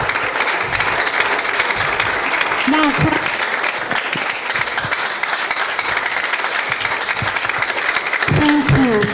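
Audience applauding steadily at a speaking event for boys, sustained dense clapping throughout with a speaker's voice briefly heard over it.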